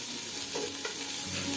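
Chopped carrot stirred in hot mustard oil in a pan gives a continuous close hiss and sizzle, with soft scraping and clinks from the stirring.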